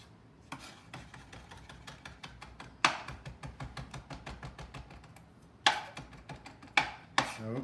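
A knife chops garlic on a cutting board in rapid, steady taps, close and crisp, with a few heavier thuds standing out among the quick rhythmic strokes and no talking.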